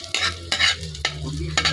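Ginger going into a pan for chicken tinola, with four quick scraping stirs over a low sizzle, close and fairly loud, no voices.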